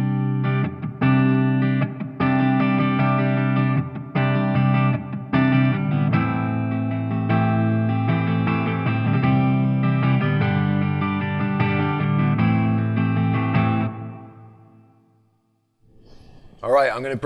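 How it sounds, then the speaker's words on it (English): Electric guitar strums and picks chords through a Marshall MG100fx amp with reverb at full, notes washing together before a long decaying tail and a brief noise at the end. "bring the reverb all the way up so you can hear how much is in there"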